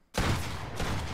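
Gunfire in the mobile battle royale game Fortnite Mobile, a dense burst that starts abruptly after a short silence and keeps up loud and continuous for about a second.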